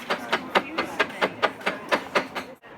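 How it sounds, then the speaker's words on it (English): A mallet hammers a hand-forged belper nail in a steady rhythm, about ten sharp, ringing blows close by, ending in a brief quiet. "Just going to get a mallet. I'm just going to hammer this down."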